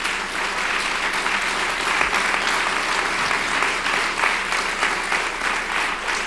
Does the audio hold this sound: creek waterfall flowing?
no